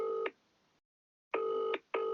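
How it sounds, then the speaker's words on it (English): A telephone plays its tones while a call is placed: a few steady electronic beeps, clear and close, separated by short silences, with no voices. "let me just call them quick"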